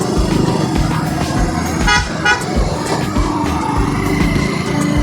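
Dense, loud roadside traffic of a jam on the Chilfi ghat road: steady engine rumble from a queue of stopped and crawling vehicles, with a couple of short horn toots near the middle and no clear talk.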